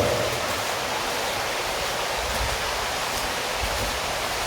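Loud, steady rush of an underground creek in Tuckaleechee Caverns, Townsend, Tennessee, filling the space, a constant broadband roar masking a nearby waterfall, with no breaks and no voices.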